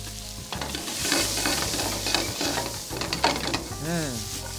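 Butternut squash sizzles and crackles in a hot oiled pan while being stirred, a steady close frying hiss with scraping and clattering, and a squeaky rattle near the end.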